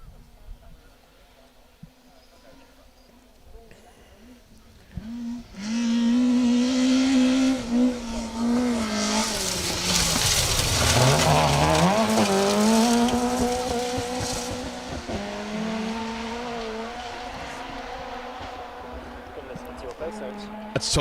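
Rally cars on a 2WD stage of the Woodpecker Stages Rally 2023 roar in and race past close by, engines revving high and tires scrabbling, then fading off into the distance with a lingering engine drone.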